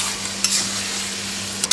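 Taro leaves (kochu shak) cooking with katla fish, stir-fried with a spatula: a loud, steady hiss of frying with a constant low hum, broken by two brief scraping bursts near the start and end.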